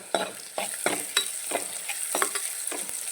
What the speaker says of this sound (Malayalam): പത്ത് ഉള്ളി ഇട്ടിട്ടുണ്ട് കേട്ടോ ചെറുതാണ് നന്നായിട്ട് മൂക്കട്ടെ വെളുത്തുള്ളി ചതച്ചതും കൂടി ഇട്ടിട്ടുണ്ട്